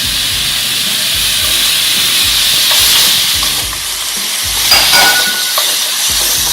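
Shrimp sizzle and hiss as they fry in a hot pan with fried rice, with scraping stirs now and then. The frying is close and steady throughout.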